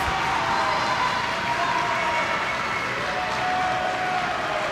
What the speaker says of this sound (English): There's that noisy crowd again.